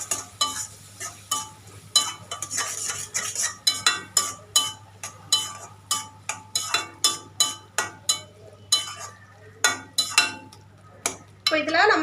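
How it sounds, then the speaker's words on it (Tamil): Bread masala with Schezwan sauce being sautéed in a pan, steady scraping and clinking of a utensil against metal in a repeated stirring rhythm, close and fairly loud over a faint low hum. "இப்போ இதை நல்லா வதக்கிக்கலாம்"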